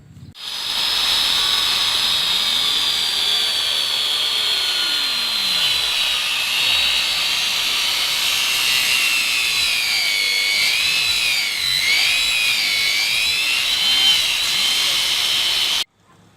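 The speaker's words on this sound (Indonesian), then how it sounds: "Ini kita nanti potong 45 derajat supaya lebih rapih ya." A power saw cuts wood at a 45-degree angle while building a bench, a loud, high whining buzz that holds steady for about fifteen seconds, its pitch sagging and wavering under load before stopping abruptly.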